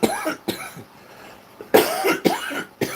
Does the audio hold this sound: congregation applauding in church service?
no